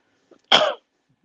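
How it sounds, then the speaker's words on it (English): A single sharp cough, close and loud, after a brief faint sound, then silence. "That was a cough"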